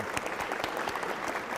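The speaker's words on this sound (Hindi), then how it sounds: "लेकिन मेन बात ये है कि हम उनका स्वागत करें एक बार जोरदार तालियों से" An audience at a Hindi panel discussion on higher education gives a brief, dense burst of steady applause welcoming a guest, loud and continuous throughout.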